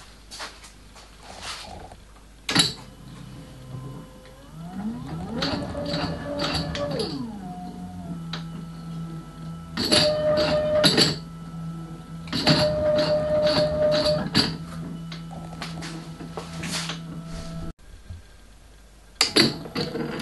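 Milling machine power feed motor whines up and down in pitch as speeds change, with ratcheting mechanical clicks, clunks and gear rattles close by, running in several separate passes with pauses between.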